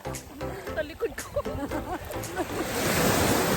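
Strong ocean waves crash along the shore of Jomalig Island, with voices talking over the surf at first before the wash of the waves swells louder and fills the end.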